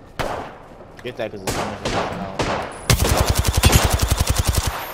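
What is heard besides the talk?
gunfire in video game Apex Legends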